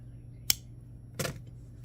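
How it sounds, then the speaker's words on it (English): Cutters snipping off excess wire while making a dropped petal earring, heard as two short, close clicks spaced under a second apart in a quiet room. "Now cut off the excess."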